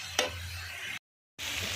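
Potato and cauliflower are stirred into fried spice paste in a pan over a wood-fired stove: one quick scrape over a soft sizzle, then a brief gap of silence before the frying hiss returns.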